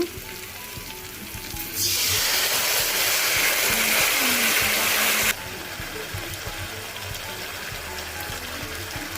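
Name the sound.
sauce paste sizzling with fried onions and capsicum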